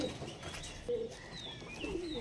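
Pigeons give soft, low, repeated coos close by, with faint chirps and background noise around them.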